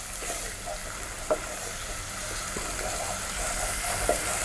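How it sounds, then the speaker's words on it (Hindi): Garlic and ginger paste with asafoetida sizzling in a pan while being stirred, a steady frying hiss with a few soft scrapes and taps of the spoon. "इसमें डालेंगे 1 टीस्पून लहसुन और अदरक का पेस्ट। इसे मिक्स करेंगे।"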